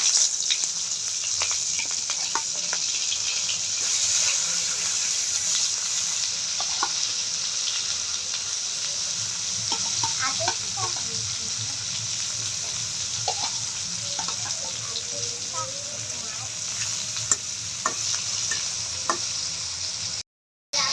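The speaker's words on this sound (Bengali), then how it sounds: "মাছটা ভাইজা নিব, কড়াইতে তেল দিয়ে দিব," Prawns fry in oil in a wok with a loud, steady, dense sizzle running throughout, scattered crackles and pops, and occasional stirring scrapes, no voices, before the sound cuts off abruptly at the very end.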